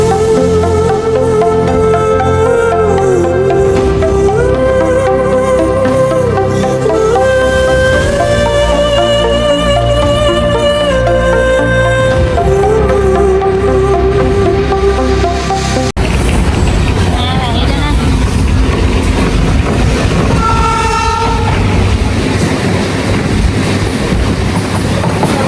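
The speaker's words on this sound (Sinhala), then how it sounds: "අන්න අනිත් ට්‍රේන් එක එනවා අනිත් පැත්තට." A train runs along a railway track near Hikkaduva on the Sri Lankan coast, with rhythmic wheel clatter under music, loud and close, the rumble changing as cars roll past, with faint voices mixed in.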